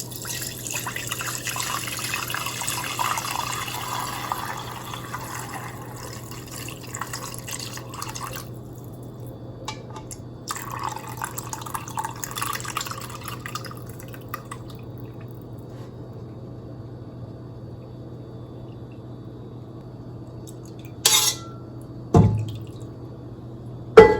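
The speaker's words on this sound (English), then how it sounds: "Now it's time to strain the remaining solids through a strainer." Sicilian beef broth strained through a strainer, a soft continuous trickle and drip under a low steady hum, with a few brief clatters near the end.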